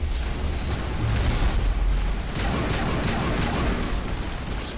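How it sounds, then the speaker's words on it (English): Grenade explosion in the Mass Effect video game, a loud sustained rumbling blast with low boom and crackling bursts, followed by sharp debris-like pops over continuous game noise. "Just throw a grenade in."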